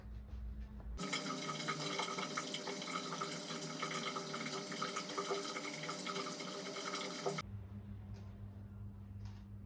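Water from a tap gushes steadily into a basin during face washing, a loud continuous rushing that begins abruptly and cuts off after several seconds, close by with no talking.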